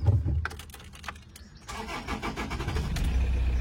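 A 2005 Toyota RAV4 D4D diesel engine cranks and starts, then settles into a steady idle close by, with no talking.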